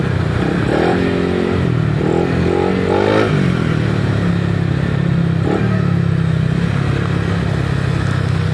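A Yamaha Lexi 155cc CVT scooter cruises fast at night near 90 km/h, its engine droning steadily with a few rising revs and wind rush throughout, no talk.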